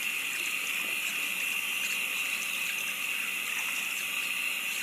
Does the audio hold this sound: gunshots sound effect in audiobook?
no